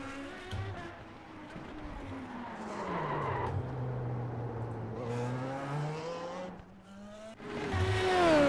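A Dallara IR-05 race car in the iRacing sim on a road course: the engine pitch rises and falls through gear changes, with tire squeal and skidding layered over the engine note, loud and close.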